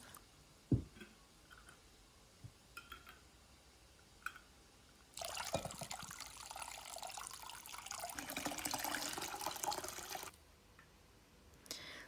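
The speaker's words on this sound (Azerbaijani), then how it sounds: "Gördüyünüz kimi suyunu süzürəm, soyuyub." Water pours and splashes for about five seconds as brine is strained off cucumber pickles in a kitchen, after a few soft clicks and knocks, then fades to quiet.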